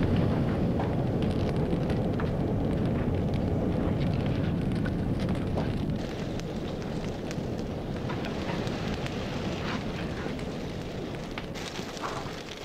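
Flames roar steadily inside a salt-glazed stoneware pottery kiln at a workshop in Adendorf, a dense, continuous rushing fire sound with faint crackles, staying loud and even throughout with no voices.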